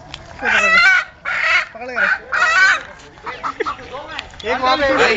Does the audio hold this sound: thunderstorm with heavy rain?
no